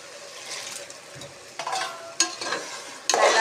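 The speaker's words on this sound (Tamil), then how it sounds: "நல்லா வதங்கட்டும்." Vegetables for veg biryani sauté in a pan with a soft, constant sizzle, broken by three louder bursts of spatula stirring and scraping near the end.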